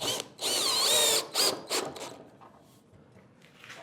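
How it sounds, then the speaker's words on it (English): A cordless drill driver whirs in short bursts while driving screws into wood, one long run followed by a few quick close pulses that fade to quiet. "I've got my drill driver ready."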